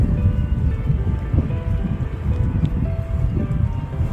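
Light rain beginning to fall over a vegetable garden in Denmark during garlic planting, a dense low rushing patter with some blustery rumble, steady and fairly loud throughout with no voices.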